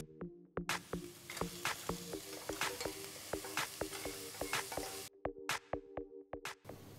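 Pounded garlic and shallots sizzle in a hot pan for a mutton rib bone soup, a steady frying hiss broken by sharp pops and spatters, loud and close, with a brief quieter gap near the end.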